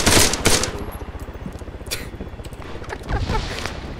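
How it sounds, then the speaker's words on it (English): Rapid automatic gunfire in a first-person shooter video game, loud and dense, with sustained machine-gun bursts and a few heavier shots layered in, and no voices over it. "Revive him and I'll shoot him again. I'll just keep shooting him."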